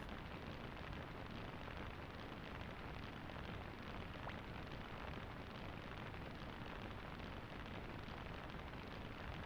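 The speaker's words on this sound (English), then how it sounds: "He's charging up his fire rune." A fire rune charges up in the video game Suikoden 2, giving a dense, constant roaring rush like a blaze or eruption that holds steady throughout without voices.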